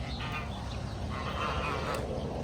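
Ducks quacking at close range in an outdoor Everglades setting, a dense continuous chatter of bird calls over steady background noise, without clear talk.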